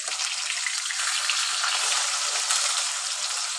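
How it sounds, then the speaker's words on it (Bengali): Large pieces of mrigal fish, marinated in salt, turmeric and spices, fry in hot oil with a loud, continuous, even sizzle that holds steady throughout. "তারপরে হচ্ছে মাছটা ভেজে নিচ্ছি"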